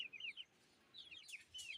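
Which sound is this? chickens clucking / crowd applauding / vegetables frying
chickens clucking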